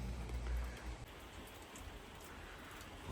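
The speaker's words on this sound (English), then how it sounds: "Well, this rain is not giving up today." Rain falls steadily on a garden, a soft, even hiss with no break, heard alone at low level with no voices.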